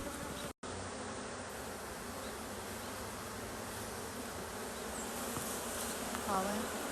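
Honeybees drone steadily as a hive stands open for inspection and queen checking, a dense, close buzz that holds for the whole stretch, broken only by a split-second dropout near the start.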